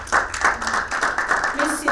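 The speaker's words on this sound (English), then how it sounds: "Please have a round of applause for everybody." Audience applause at a summit session on market and legal perspectives, rhythmic rounds of clapping from a modest crowd, fairly close and loud, with brief bursts rising and falling.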